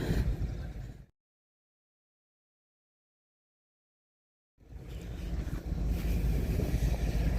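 Strong ocean wind buffets the microphone in a low rumbling roar, cutting out to silence for a few seconds before returning even stronger.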